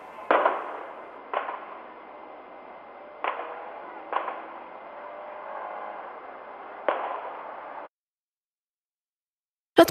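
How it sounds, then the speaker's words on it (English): A series of five sharp gunshot reports, picked up by an acoustic gunshot-detection system, crack out at irregular intervals with short echoing tails. They sound distant and muffled, followed by silence and one final abrupt burst. "It has high confidence in this multiple gunshot incident."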